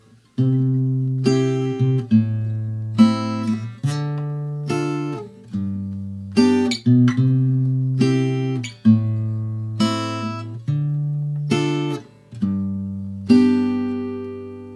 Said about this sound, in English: Now if I play just the triads for each of those root notes, it would sound like this.